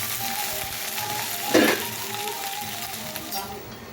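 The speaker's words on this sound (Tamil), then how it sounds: "இப்போ வந்து பிரண்டை வறுத்துக்கிறோம்." Pirandai (adamant creeper) sauteed in a pan gives a steady, close sizzle, with a brief louder burst of stirring about midway, and no talk.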